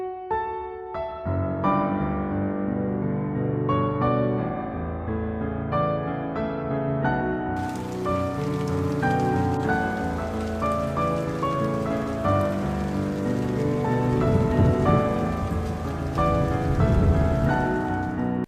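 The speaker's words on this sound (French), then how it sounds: "t'as carrément une pluie qui tombe" Rain falls as a dramatic sound effect, a steady broadband patter that swells from the middle onward and runs beneath continuous music.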